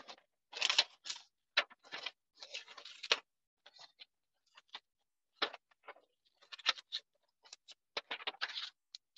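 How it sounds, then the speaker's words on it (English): Scissors cutting out paper in an art-making session, a quiet irregular series of short snips and rustles with gaps of silence between them. "So I'm going to take my scissors and cut it out."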